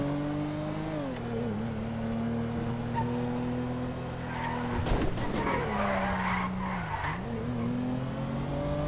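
A car in the video game GTA V drives with a steady engine drone that shifts pitch, then a loud tire skid screeches through the middle before the engine settles and revs again, no talk.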